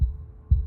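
Pounding heartbeat in the video game Slay the Princess: two deep, heavy thumps about half a second apart, close and alone with no voice over them.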